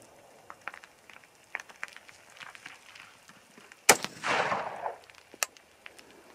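A rifle loaded with Lever Evolution powder at 31.5 grains and 80-grain bullets fires one sharp, loud shot outdoors that echoes briefly, with faint scattered ticks and rustles before and a softer crack afterward.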